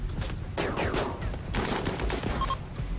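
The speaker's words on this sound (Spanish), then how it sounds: "Está disparando con esto." Rapid gunfire from a firefight in RimWorld, a colony-simulation game: a dense fusillade of overlapping sharp shots and bursts that stays loud and continuous throughout.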